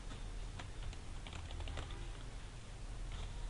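Code is typed on a computer keyboard in a steady run of faint, quick key clicks, with a few louder taps standing out and no talking.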